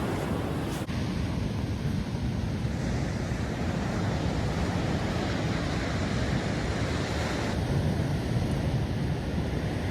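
Waves wash onto a California beach on a morning walk, a steady broad surf roar that continues without a break and with no voices.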